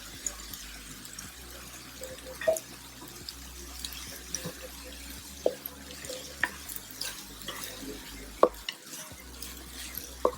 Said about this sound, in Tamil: இப்போ நம்ம எடுத்து வச்சுருக்க ரைஸை சேர்த்து கிளறி விட்டுலாம்.